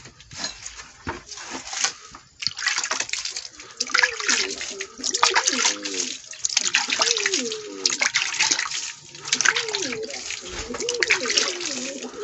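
Water pours steadily for a watering, splashing close by in uneven surges with gurgling tones, while a voice is heard faintly underneath.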